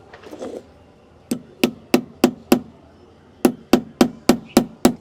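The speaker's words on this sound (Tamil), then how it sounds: "இங்கே வந்து ஒரு ஆணி வந்து அடிச்சிட்றேன்." Hammer blows drive a nail into a homemade wooden skateboard deck, two sharp groups of impacts: five strikes, a pause, then six more in a steady, fairly quick rhythm, close and loud after a brief rustle.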